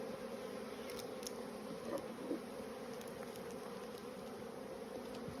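Honeybees buzzing inside a hive with a failed, poorly mated queen, a soft continuous drone with brief nearer passes of individual bees, steady and faint throughout.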